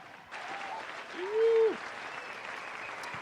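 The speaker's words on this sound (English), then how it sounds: "I actually have to give you a round of applause here" Steady applause from a crowd, an even wash of clapping that starts sharply and holds throughout, with a brief high tone sounding over it midway.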